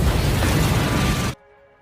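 The ship Arctic Warrior explodes in the 2002 film Ghost Ship, a loud dense roaring blast that fills the sound for over a second and then cuts abruptly to a low hum.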